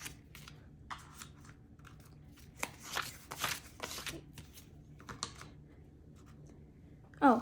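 Fake paper money bills are counted out by hand, giving soft, scattered rustles and flicks of paper over a quiet room, with no speech.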